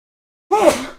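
A single sharp sneeze bursts out close to the microphone after a moment of silence, loud and abrupt, then trails off quickly.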